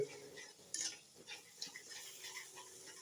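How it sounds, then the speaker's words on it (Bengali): A spoon scrapes and clinks softly against a pan while cauliflower korma cooks over a low flame, giving faint irregular stirring sounds with a light sizzle underneath. "নাড়তে থাকবো।"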